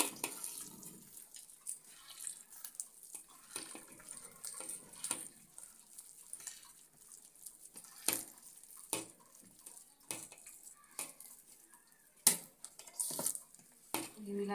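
A spoon scrapes and taps against a bowl while malpua batter is stirred, with irregular wet clinks and sloshes, close by.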